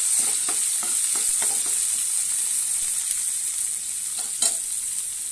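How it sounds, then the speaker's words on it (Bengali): Pumpkin stem stirred in a frying pan, a constant close hiss of frying with a series of soft spatula scrapes and taps near the start and one more near the end. "তারপরে এর মধ্যে একটু নাড়াচাড়া করবো।"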